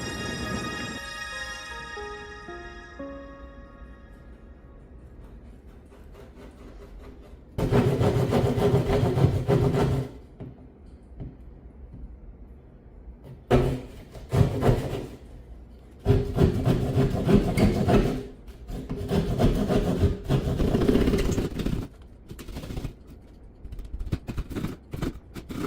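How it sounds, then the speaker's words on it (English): A drywall saw cuts a hole in drywall for an electrical box, rasping back and forth in rough bursts of sawing strokes with pauses between, close by, after a fading musical jingle at the start. "Let's get that drywall saw up."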